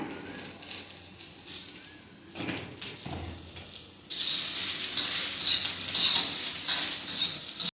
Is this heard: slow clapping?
no